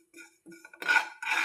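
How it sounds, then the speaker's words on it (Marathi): Roasted poppy seeds being scraped out of a pan, giving a few short metallic scraping and rasping strokes, close and fairly quiet, with no talking. "आता मी हे खसखस काढून घेत आहे."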